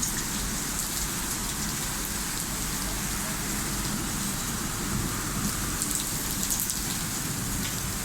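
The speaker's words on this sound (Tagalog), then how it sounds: "Ito, ang lakas ng bagyo." Heavy rain from a storm in Dubai pours steadily and loudly, a dense continuous roar of downpour with gusting wind, no voices.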